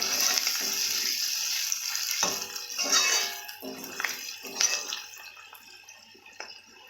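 A small amount of water trickles and splashes into a prepared spice mix in a pan, in short dripping bursts over a faint background hiss, close by with no voices.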